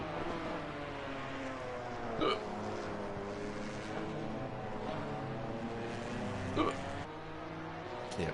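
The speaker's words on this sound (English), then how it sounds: "I've got the hiccups. It's going to be difficult to talk." Hiccups from a live race commentator at Laguna Seca, two short jerky catches a few seconds apart, heard close over a steady drone of racing-game engine noise.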